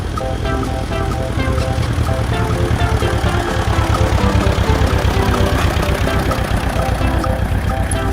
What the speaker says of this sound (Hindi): ट्रैक्टर उसके घर जाने लगा।